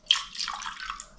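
Water poured into a plastic drinking glass, a short splashing pour that starts abruptly and burbles for about a second, close and moderately loud with no talk.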